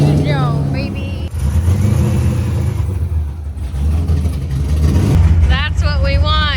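A C6 Corvette drift car's engine revs loudly and steadily in the foreground, its low droning roar rising in pitch near the end, while people talk over it.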